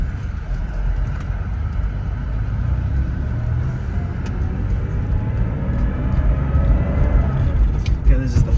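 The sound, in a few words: 1989 Porsche 911 Carrera driving on city streets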